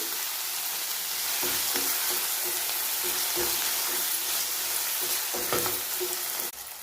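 Onion and tomato frying in a pan for a dhaba-style vagharelo rotlo, a dense continuous sizzle with a few scraping stirs of a spoon, close and loud, with no talking.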